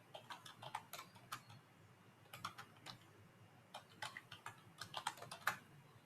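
Code typed on a computer keyboard: quiet, close, irregular key clicks in short bursts with brief pauses between them, and no talk over them.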